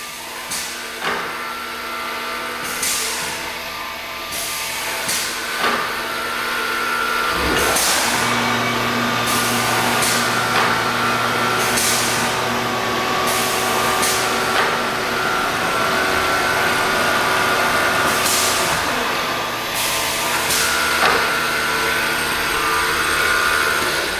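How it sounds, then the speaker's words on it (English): Electric motor of a 2012 Lobo five-spindle pocket screw machine running steadily, a sustained industrial hum and whine close by with no talk over it. "We're going to go ahead and turn the motor on."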